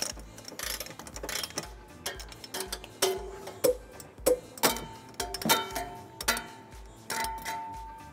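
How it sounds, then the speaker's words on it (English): A ratchet fitted with a 19 millimeter socket tightens trailer hitch bolts on a 2013 GMC Terrain, giving a run of quiet, quick, evenly spaced clicks with a few sharper knocks of metal, close by. "we're ready to tighten and torque all of them to the manufacturer's specification. We'll be using a 19 millimeter socket for all of our bolts."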